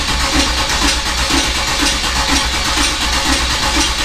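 A car engine turns over and runs with a rhythmic, pulsing churn, loud and close, held steady throughout with no talking.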